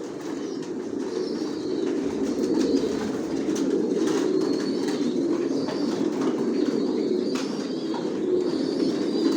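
A flock of Janssen-line racing pigeons in a loft keeps up a dense, continuous rolling coo, loud and close, with scattered higher chirps layered on top and no talking.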